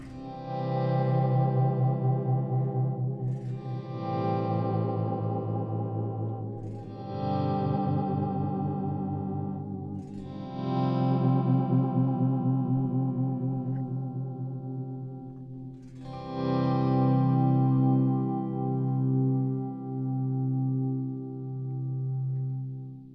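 Sustained electric guitar chords through an Alexander Pedals Amnesia delay pedal ring out with a wavering vibrato and trailing echoes, each new strum swelling loud over the fading repeats.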